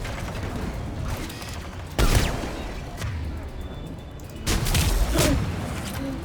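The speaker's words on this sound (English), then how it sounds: "I make that guy blow up" Explosive bursts from an enemy blowing up in the Mass Effect 3 Legendary Edition video game, two loud broadband blasts with gunfire-like crackle and mechanical clatter between them, no talk.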